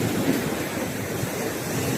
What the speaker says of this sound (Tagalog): ang lakas itong alon